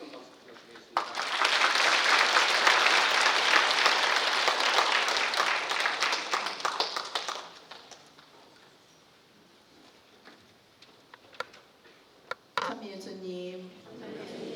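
A church congregation applauds in a dense, sustained burst that lasts several seconds and then fades away, followed by quieter rustling and a voice beginning to speak.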